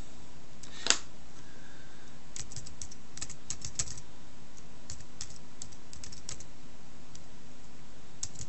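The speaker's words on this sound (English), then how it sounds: "my typing is terrible." Keys click in quick, irregular bursts on a nearby keyboard, with short pauses between taps and a quiet background hum.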